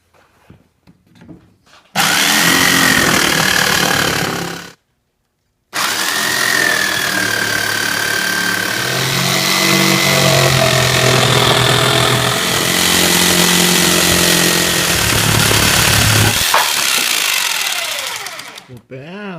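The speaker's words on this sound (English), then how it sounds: "Let's cut the hole for this sink first." Power tool cutting a sink hole into a countertop, a loud continuous whining cut that stops briefly, resumes and runs steadily for over ten seconds before winding down.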